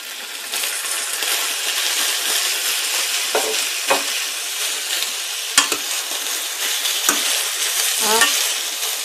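Tomato and eggplant fry in a pan for tamarind sauce, a steady close crackle and sizzle with repeated spoon scrapes and metallic taps against the pan.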